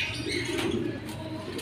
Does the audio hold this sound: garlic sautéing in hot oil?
no